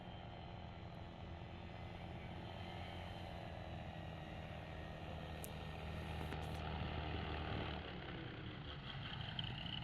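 A light airplane approaching to land with its flaps deployed gives off a steady engine and propeller drone that carries through the whole stretch and swells slightly near the end, with no talking.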